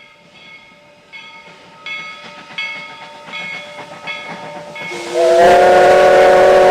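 A train rolls on rails with rhythmic wheel clacks, then a loud steam whistle blasts near the end with a hiss, close and dominant.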